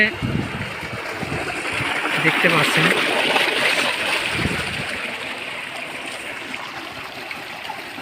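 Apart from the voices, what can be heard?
water gushing from solar pump pipe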